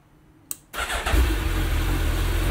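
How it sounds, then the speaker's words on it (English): A Suzuki Hayabusa inline-four motorcycle starts up close by: a short click, then the starter catches and the engine fires into a loud, steady idle that carries through to the end. "Let's turn on the Hayabusa here"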